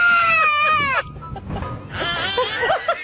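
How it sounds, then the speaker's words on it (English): Young goat bleating at close range in a loud, wavering cry that fades after about a second, followed by quieter rustling and then another bleating, crying call. "You sharing with the baby goat?"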